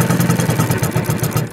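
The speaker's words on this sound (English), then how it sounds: "noise that you hear is the needle hitting the webbing" A New Tech LU1508 heavy-duty compound-feed sewing machine with a servo motor, its needle striking webbing in a fast, regular clatter of closely spaced beats heard up close.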